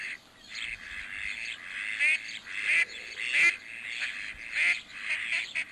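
Mallard ducks at Lake Méziaa calling nearby, with repeated nasal quacks and honking notes over a continuous chatter of waterbirds.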